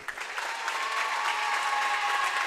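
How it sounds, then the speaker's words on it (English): A gym crowd at a boys' varsity high school basketball game claps steadily for the senior players, a dense, even wash of applause that holds at the same level throughout. "let's please stand and give a nice round of applause for our seniors this year"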